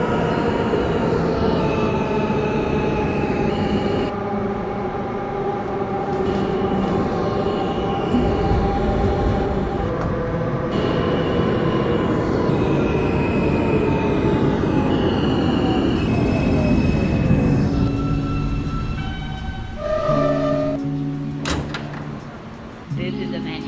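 A Manhattan-bound Q local subway train runs in the OpenBVE train simulator game, a loud continuous rumble of wheels and motors with shifting whine, then slowing with squeals and a door chime near the end.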